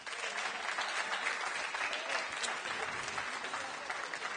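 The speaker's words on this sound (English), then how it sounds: "Please give them a big round of applause." Audience applause after a late event talk in Invercargill, steady dense clapping from a crowd, continuous and even throughout, no voices standing out.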